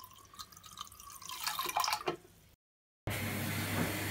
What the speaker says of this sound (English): you can see it's loads of dirty water coming out